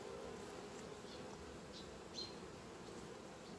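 Honeybees from a young colony swarm over an open hive frame holding brood, giving a steady, soft, continuous buzz that stays even throughout with no talking.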